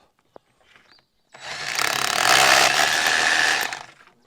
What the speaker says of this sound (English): so just drill these last 2 holes